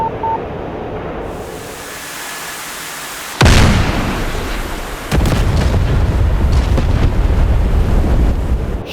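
A bomb explodes on its target in the DCS F-15E Strike Eagle flight simulator, a sudden loud broadband blast followed by a rumbling wash of noise and a second heavy burst, over steady wind and engine roar.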